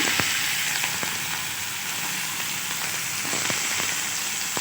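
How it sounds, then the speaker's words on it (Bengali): Chopped onions, sliced very thin, fry in very hot oil, making a steady, close hiss with small crackling pops scattered throughout. "তেলটা অনেক গরম হয়ে গেছে লাল লাল করে ভাজা হয়ে গেলে এইবার পেঁয়াজ কুচিটা আমি দিয়ে দিলাম"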